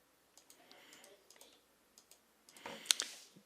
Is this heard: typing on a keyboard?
yes